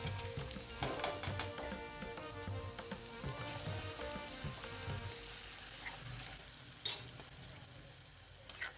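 Garlic and chili masala roasting in oil for a gram-leaf bhaji, a faint, continuous sizzle dotted with spoon taps and scrapes against the pan, quiet and close, with a sharper clatter near the end.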